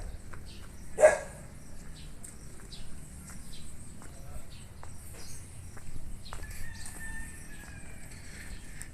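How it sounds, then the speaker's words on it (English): A newer guard dog that yaps a lot gives one sharp, fairly close bark, while outdoor background noise and other faint sounds carry on around it. "He yaps a lot. He's a big yapper."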